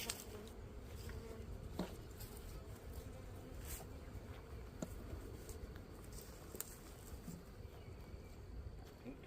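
A steady low hum of honey bees buzzing at a beehive fills the background, with occasional brief taps and clicks over it; no talking.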